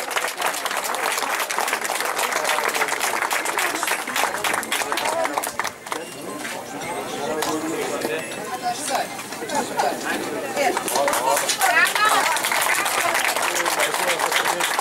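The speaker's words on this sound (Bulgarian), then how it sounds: "И тук аплодисменти." Audience applause at a car race award ceremony as third place is announced, dense sustained clapping from a crowd with a brief dip midway, mixed with chatter and a voice talking over it.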